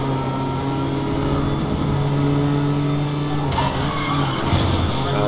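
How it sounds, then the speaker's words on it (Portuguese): Tires squeal as a car drifts in Need for Speed Most Wanted 2012 during a police chase, the engine droning steadily throughout with bursts of skidding screech toward the end, loud and continuous. "Tá dando um drift sem necessidade."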